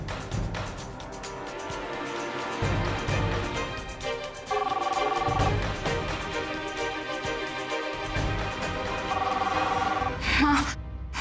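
A landline telephone rings in two separate bursts and goes unanswered, the ringing heard over a dramatic background music score.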